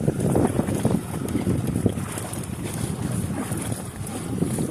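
Steady wind roars across the microphone on open water from a kayak used for bass fishing, a continuous broadband rush with water movement beneath and no talking.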